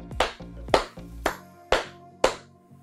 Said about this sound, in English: You want to do another clap